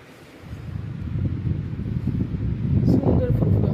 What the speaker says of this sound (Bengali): সুন্দর ফুরফুরে হাওয়া।